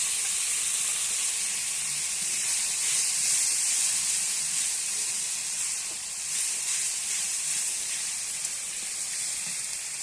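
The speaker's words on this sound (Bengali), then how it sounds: "একটু গরম জল দিয়ে দেবো।" Steady loud hissing and sizzling of steam as hot water hits a hot cooking pan, a continuous bright spray-like rush that holds fairly even for about ten seconds with no talk.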